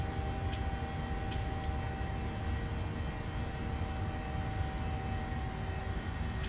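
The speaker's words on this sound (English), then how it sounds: "Climb power's coming in." A PMDG airliner in Microsoft Flight Simulator, climbing out of Edmonton, hums with a steady, even engine drone, a few faint ticks in the cabin breaking the continuous roar.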